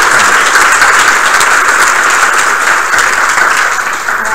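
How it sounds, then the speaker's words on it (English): An audience applauds to thank a presenter at a professional development talk, the dense, loud clapping holding steady before starting to fade near the end. "Please join me again in thanking Steve."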